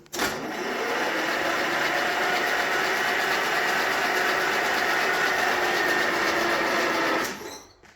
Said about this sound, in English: I took the plugs out just because I want to see the engine rotate here